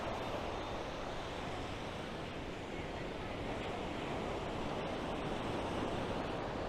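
Ocean waves at a small clear beach, a constant faint wash of surf blending with wind noise on the microphone, steady throughout with no talk.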